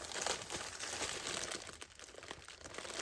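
Scissors cut a curly ribbon bow off a gift wrapped in paper outlined with silver, giving faint, brief crinkling and snipping close by.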